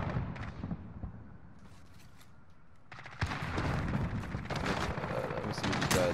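Grau 5.56 assault rifle gunfire in Modern Warfare, with bursts of rapid shots that start as a thinner, distant rattle and turn to louder, denser firing halfway through, mixed with other battle noise.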